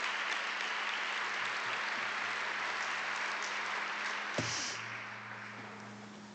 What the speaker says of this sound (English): you should all give yourselves a round of applause for your role in that